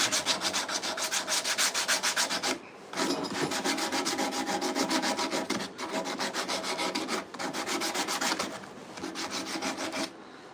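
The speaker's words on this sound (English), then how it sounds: "And this 80 grit will hopefully just get a bunch of the nasty off the handle." Coarse 80-grit sandpaper scrubbing a handsaw's wooden handle in fast, steady back-and-forth strokes, loud and close, with brief pauses near 2.7, 5.8 and 8.5 seconds.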